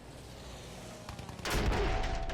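Battlefield 1 gunfire on the Oil of Empires operation: scattered distant shots give way to a sudden loud burst of heavy firing and booming impacts that keeps going to the end.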